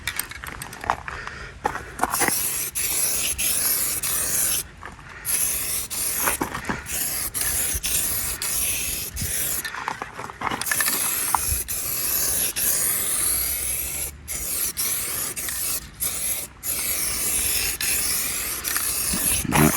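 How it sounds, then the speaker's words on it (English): Color coat sprayed onto a textured Toyota Tacoma running board, a close hissing spray in long sustained passes broken by short gaps between strokes, no speech. "So we're just gonna put some color coat over top of all this, just to seal it all in"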